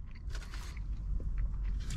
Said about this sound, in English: that bacon is super crunchy.